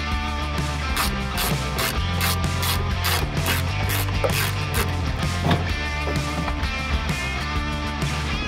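A ratchet clicks rapidly in a continuous rhythm while unscrewing bolts on a van's wheel arch area, loud and close, with dense metallic ticking and no talking.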